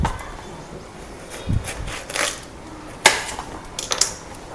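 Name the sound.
knife chopping watermelon into small pieces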